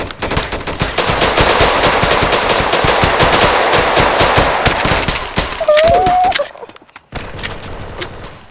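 Sustained rapid automatic gunfire in a video game, loud and dense for about six seconds before breaking off into a short pause and a quieter tail of shots; a brief rising electronic tone cuts through near the end.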